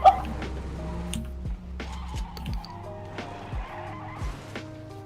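A car in a video game driving with repeated tire squeals and skids, engine tones rising and dropping in short bursts, close and clear with no talk.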